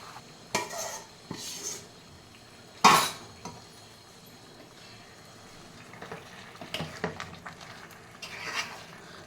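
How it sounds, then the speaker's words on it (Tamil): Chicken kulambu ingredients being stirred in a metal cooking pot, with scattered scraping clinks of a spoon against the pot, one sharp clatter partway through and softer stirring scrapes later, no talk. "இப்போ இதில் போட்டு நல்லா மிக்ஸ் பண்ணி விட்டுக்கலாம்"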